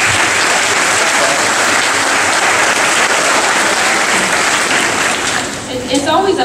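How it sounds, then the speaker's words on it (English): An audience at a middle school eighth grade graduation applauds in a dense, loud burst that carries steadily before tapering off near the end, where a voice begins speaking. "I think we need to give Kate Becker another round of applause"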